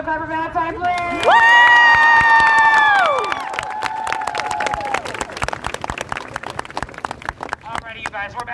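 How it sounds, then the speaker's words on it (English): A crowd of high school students at an outdoor protest erupts in loud cheering and whooping, shrill sustained yells giving way to scattered clapping and shouts. "can we get another clap for Valentine, please?"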